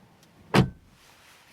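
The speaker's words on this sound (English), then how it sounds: "Door closing sound" A single solid thunk of a car door shutting on a 2024 Mercedes-AMG A35 4MATIC facelift, short and close, followed by quiet, with a faint second knock at the very end.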